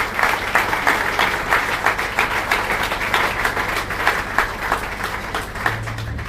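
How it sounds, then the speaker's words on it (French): An audience applauds steadily at a tribute ceremony honouring a late professor, the university founder and first rector. The clapping is loud, dense and continuous, with no voices over it. "j'aimerais souhaiter que l'audience puisse l'applaudir fortement"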